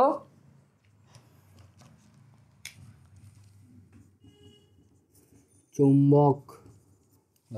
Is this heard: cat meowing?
no